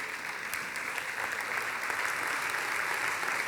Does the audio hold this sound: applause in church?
yes